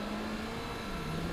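A supercharged Speed 12 engine in a Caterham 7 chassis revs in Gran Turismo 4, giving a steady droning engine tone that holds the whole time and sags slightly in pitch toward the end.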